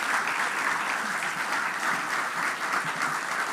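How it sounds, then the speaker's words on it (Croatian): Audience applause fills an opening ceremony hall, a steady dense wash of clapping from many hands that holds evenly throughout without any voices. "Možete vi slobodno pljeskati I dalje"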